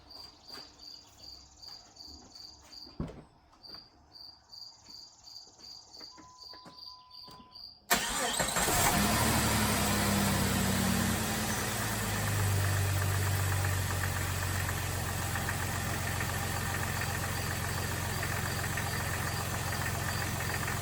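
A Jeep Grand Cherokee engine with freshly changed spark plugs cranks and catches abruptly after crickets chirp in a quiet outdoor setting, then settles into a loud, steady idle that carries on to the end.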